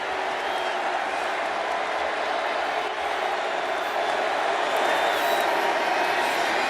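Football stadium crowd at the Cotton Bowl, Penn State versus Memphis in 2019, roaring as a steady wide wash of cheering and applause with no breaks, loud and distant throughout.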